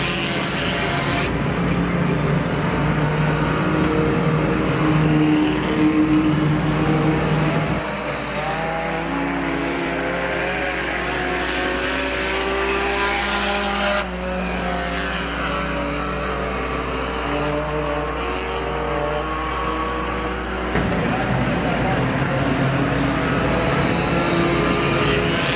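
IMCA sport compact race cars roar around the Perris Auto Speedway dirt oval during a main event, a steady loud engine drone with shifting pitch as cars pass, continuous for the whole stretch.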